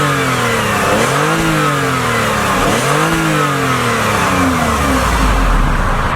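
2022 Lexus RX 350 AWD engine in sport mode, loud and close, revving up and falling back twice in clear rising and falling sweeps before settling into a steady hum.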